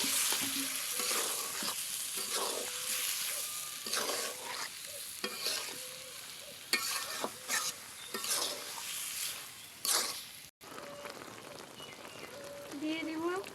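Jackfruit masala hisses and spatters in a pan as a little water is added, with busy stirring scrapes and clatters throughout and faint talk in the background.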